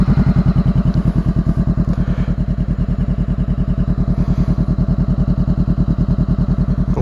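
A motorcycle engine idles close by after a new exhaust is fitted, a loud, steady, rapid thumping pulse that holds an even rhythm throughout with no revving.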